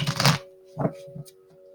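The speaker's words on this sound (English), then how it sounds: "For one more shuffle." A short riffle of shuffling tarot cards at the start, followed by a few soft taps and flicks of cards, with a faint steady hum underneath.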